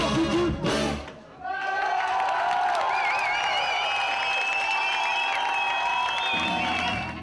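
Festival audience cheering for a band at an evening concert, a sustained loud wall of shouts, whistles and applause after a brief snatch of music, with individual high-pitched screams standing out.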